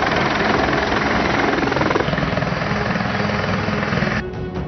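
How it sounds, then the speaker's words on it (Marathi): A helicopter flies a flood rescue operation in Beed, Marathwada. Its loud, steady rotor chop and engine roar run throughout, easing slightly in the final half second. "या सगळ्यांना वाचवण्यासाठी चक्क हेलिकॉप्टरची सोय करण्यात आली"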